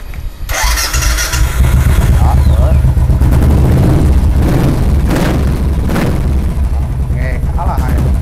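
A classic large-displacement motorcycle at a Vietnamese dealer fires up with a sharp crack, then revs loudly through a deep, throaty exhaust, with repeated blips and popping bursts close by; faint voices are heard in the background.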